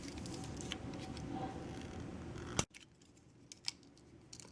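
A Swiss Army knife blade snaps open with one sharp click, followed by a few faint ticks in a quiet room.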